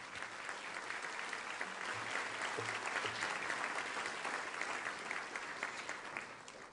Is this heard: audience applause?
yes